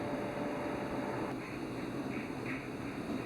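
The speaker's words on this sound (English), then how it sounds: "So here's that engine powering all of this." Electric engine driving the winch that lowers a shipyard launch platform into the water for a steamship, a loud steady mechanical drone and hum close by, continuous throughout with faint higher whine.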